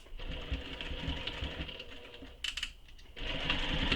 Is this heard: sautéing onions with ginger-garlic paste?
no